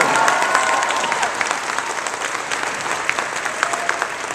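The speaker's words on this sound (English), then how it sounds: "give a round of applause for being here today" A crowd at the Spooky Empire fan convention gives sustained applause for a Scream cast reunion panel, a broad, steady roar of clapping with scattered sharper claps and no speech.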